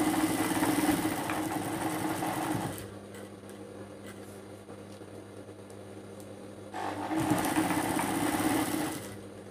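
A sewing machine stitches a shirt pocket in two loud, even runs of rapid mechanical whirring, separated by a quieter pause of several seconds, close to the listener.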